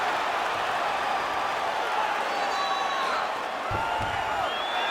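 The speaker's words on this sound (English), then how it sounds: "big pop from the crowd as they get back to their feet after a pretty scintillating grappling battle there on the ground" A dense, steady roar of crowd cheering at a UFC 319 middleweight championship fight simulation in a video game, filling the whole stretch with a faint voice underneath.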